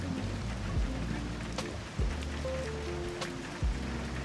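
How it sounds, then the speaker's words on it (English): Rain falling in a dense, steady hiss that fills the background, with low rumbling thuds recurring every second or so beneath it, no talking. "maybe you're worried the rain will stop when you step out and get drenched"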